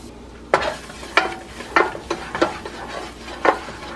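Garlic sautéing in a pan over a flame, a low sizzle broken by sharp clinks of a utensil stirring against the pan, about half a dozen scrapes spaced irregularly, close and fairly loud.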